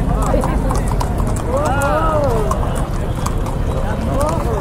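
Horses run at the Ghode Jatra festival at Tudikhel, their hooves beating in a quick, continuous clip-clop over a dense, noisy crowd, with people talking and calling nearby.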